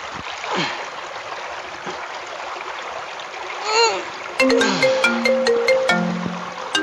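A phone ringtone plays a bright melodic tune in loud repeated bursts, entering abruptly over an outdoor scene with running water, before the call is answered.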